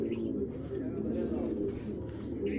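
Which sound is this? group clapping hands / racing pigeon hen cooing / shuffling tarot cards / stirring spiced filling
racing pigeon hen cooing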